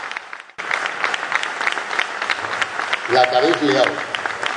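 An audience at a book presentation breaks into warm applause for the author. Steady clapping starts after a brief pause and carries on, with a voice speaking over it near the end.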